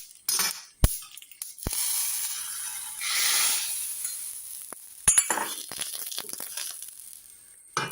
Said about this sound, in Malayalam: കടുകും മുളകും കറിവേപ്പില ഇട്ട് നമുക്ക് കടുക് വറക്കാം